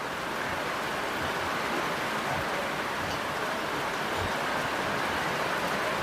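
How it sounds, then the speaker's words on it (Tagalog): Dense, steady hiss of heavy rain pouring continuously, with no voices or breaks. "Ganito kalakas ng ulan, tapos maglalakad yung bata."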